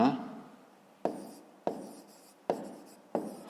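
Pen strokes on paper while writing out a fifth-grade maths exercise, close and distinct, about five scratchy strokes at a steady pace with quiet gaps and no talk.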